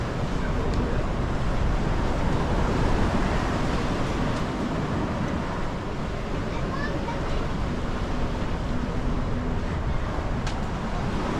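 Strong gusty wind with surf and waves buffeting a reefed sailboat on an offshore passage near Japan, a steady loud broadband roar with wind noise on the microphone filling the whole stretch.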